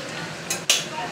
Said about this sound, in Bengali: চিকেন কষা হচ্ছে, জামাই রান্না করছে